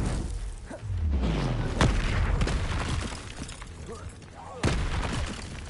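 Spell blasts in the video game Hogwarts Legacy, several booming explosions and crackling impacts in a chaotic fight, with sharp hits near two and five seconds and a person talking throughout.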